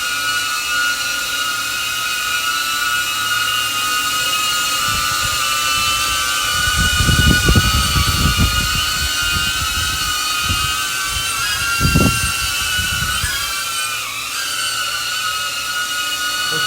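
A DJI drone hovers nearby with a steady high-pitched propeller motor whine throughout, with a few low rumbling bursts in the middle and a brief pitch shift near the end.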